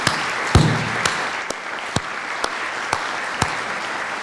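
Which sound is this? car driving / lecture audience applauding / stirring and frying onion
lecture audience applauding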